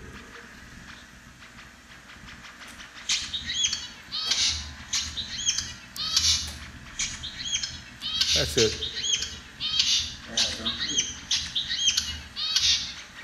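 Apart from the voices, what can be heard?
zebra finch song bouts recording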